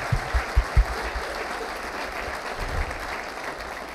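Steady applause from a crowd, with a few low thumps near the start, continuing evenly at moderate volume.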